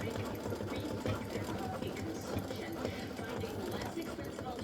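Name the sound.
embroidery machine stitching a Mrs Claus design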